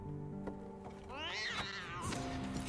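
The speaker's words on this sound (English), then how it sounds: "A cat pounced on the Sniffer." A cat gives a single close, drawn-out meow that rises and then falls, over a quiet background with faint low hum.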